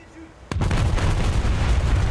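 A warship's guns fire a salvo at a Scharnhorst battleship in the video game World of Warships, one sharp heavy boom followed by a long rumbling roll, with no speech.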